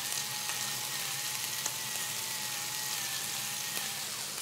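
Fish seasoned with salt and pepper fries in a pan for a tomato and Madeira fish soup, giving a continuous, even sizzle with faint crackles, heard close and alone.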